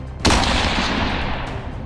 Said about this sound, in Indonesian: Lalu Eden bersiap untuk menembak mereka